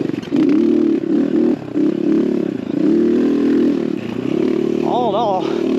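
A 250cc X Pro Templar dirt bike rides a trail, its engine droning loudly and steadily up close with shifting revs, plus a brief rising whine near the end.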